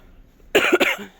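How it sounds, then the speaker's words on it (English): A single close, sharp cough bursts out in two or three quick hacks after a moment of near silence. "I still got this stupid cough."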